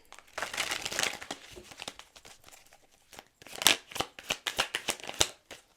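Tarot cards are shuffled and drawn close up: a riffling rush, then a quieter pause, then a run of quick, crisp card flicks and snaps.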